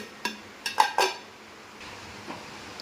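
Rice and moong dal are stirred in a pot; a few quick metallic clinks of a spoon against the pot come close together early on, then fade into quiet.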